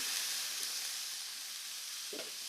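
Shallots sizzling steadily in a hot pan for a vegan lasagna, a soft continuous crackle with one brief scrape of a stir near the end, no voices.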